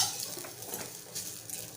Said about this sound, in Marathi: खोबरं भाजून घेतल्याने आपल्या ग्रेव्हीला छान तरी येते आणि चव पण मस्त लागते